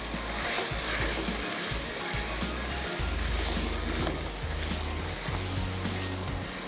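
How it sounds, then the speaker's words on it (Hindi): Beef tikka frying in masala over a high flame, a loud, steady sizzle filling the whole stretch, close up, with faint background music underneath. "थोड़ा सा हाई फ्लेम पे इसको भुनेंगे"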